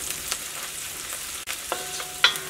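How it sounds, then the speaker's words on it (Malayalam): Turmeric powder fries with onions in hot oil, producing a continuous close sizzle with a few scraping stirs and light clicks of a utensil against the pan. "ഈ മഞ്ഞൾപ്പൊടി നന്നായിട്ട് മൊരിയട്ടെ"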